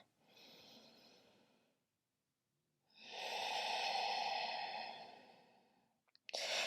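Deep, audible breaths during a yoga practice: a long exhale, a pause of near silence, then a fuller, sustained breath, close and fairly soft, ending in a brief sharp intake.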